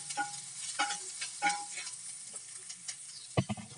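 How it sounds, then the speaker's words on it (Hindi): A spoon scrapes and stirs poha mixed with spices in a pan, making soft, irregular scraping strokes over a faint sizzle. A sharper clatter comes near the end. "सारी चीज़ों को अच्छी तरह से मिला लेते हैं।"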